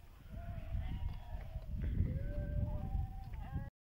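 Sheep bleat repeatedly on a highland pasture, several wavering calls overlapping at close to moderate range against a steady outdoor rumble.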